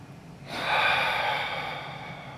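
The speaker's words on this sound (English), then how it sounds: "Take one more big breath here." A single deep breath drawn in during a vinyasa flow yoga session, starting after a brief pause and swelling into a long, steady, airy inhale that stays close and fairly loud before slowly easing off.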